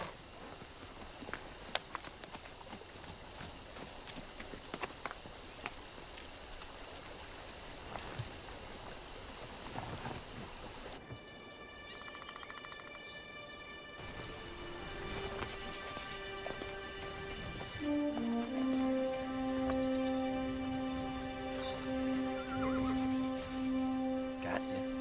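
Hooves clip-clop in an uneven walking rhythm amid outdoor ambience, followed later by sustained tonal calls that resemble a horse's whinny.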